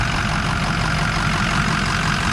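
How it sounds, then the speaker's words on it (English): A 2005 Ford F250 diesel engine idling under the hood, a close, loud, steady rumble with an even clattering texture and no talk. "Some people don't know how a good diesel sounds like."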